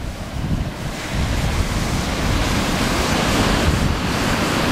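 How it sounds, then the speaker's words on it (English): Ocean surf on an Outer Banks beach near a pier: a continuous loud wash of breaking waves with strong wind buffeting the microphone, no voices. "That's not a bad little longboard wave out there."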